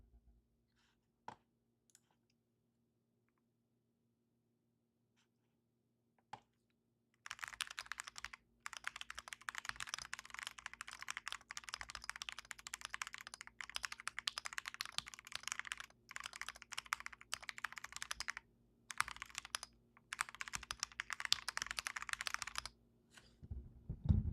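Fast, continuous typing on a computer keyboard right beside the microphone, with dense close-up key clicks running steadily for about seventeen seconds after a quiet start, broken only by a few brief pauses.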